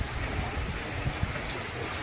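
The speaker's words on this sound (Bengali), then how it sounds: "বৃষ্টি হচ্ছে হচ্ছে, তুমি ঘরের ভেতরে করবে।" Rain falls steadily in a continuous close hiss, with scattered heavier drops tapping through it and no talking.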